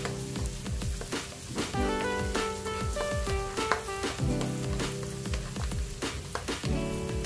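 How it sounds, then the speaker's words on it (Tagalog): Butter melting and sizzling in a pan for a Filipino butter garlic seafood dish, crackling steadily under soft music while it is stirred, with scattered taps. "Habang tinutunaw natin yung ating butter, lalagay na natin itong ating kwan. Then, haluin lang natin."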